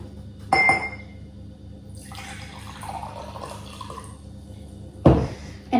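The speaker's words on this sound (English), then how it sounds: "Okay, so I'm going to put it in the glass actually." Vinegar poured into a glass for a homemade volcano makes a short liquid trickle and splash, bracketed by sharp clinks of glass at the start and end.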